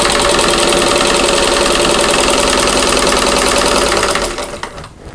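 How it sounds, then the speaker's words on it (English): Sewing machine stitching half-square triangle quilt squares along a drawn line, a steady loud mechanical whir with rapid needle rhythm running continuously, then slowing and stopping near the end. "I'm going to sew on that drawn line"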